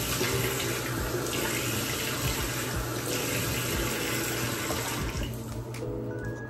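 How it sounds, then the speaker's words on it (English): Cool tap water runs steadily into a bathroom sink while someone splashes their face during a night skincare routine, a continuous close rushing with no talk. "we're going to splash with a little cool water"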